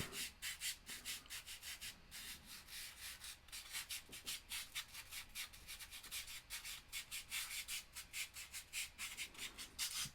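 A brush scrubs dark pigment into a surface in quick repeated back-and-forth strokes, a soft rhythmic scratching rubbing that is faint and close, with brief pauses between bursts.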